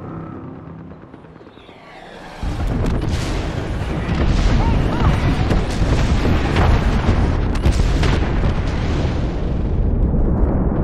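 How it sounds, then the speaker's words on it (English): An airstrike pounds the ground in Apex Legends, a quiet stretch giving way to a heavy, continuous roar of overlapping close explosions and booms that keeps rumbling to the end. "Signaling an airstrike."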